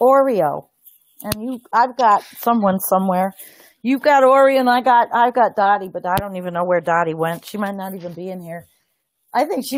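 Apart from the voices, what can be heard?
No everyday noises stand out.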